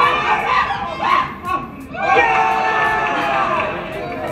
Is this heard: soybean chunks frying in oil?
no